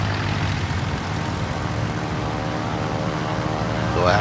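Steady drone of torpedo-bomber aircraft engines in a naval combat video game, a continuous engine hum holding at even loudness throughout.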